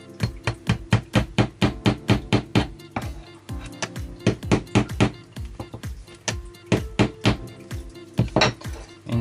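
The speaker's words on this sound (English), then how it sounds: "the last thing is just to hammer in the nail into those" A nail is hammered into pilot holes during a small electronics build, with sharp, ringing metallic taps in quick bursts of several strikes each, loud and close, with short pauses between runs.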